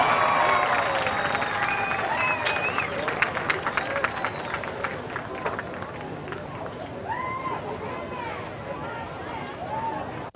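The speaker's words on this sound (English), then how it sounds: "Let's give them a big round of applause." A crowd in the stands at a high school football game's senior night claps and cheers for the band seniors and their families, with whistles and babble mixed in. The applause is loud at first, then gradually fades.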